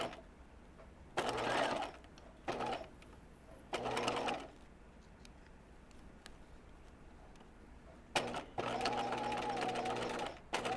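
A domestic sewing machine stitches a seam on cigarette pants in several separate bursts, each a second or two of steady whirring with quiet pauses between, fairly close and loud.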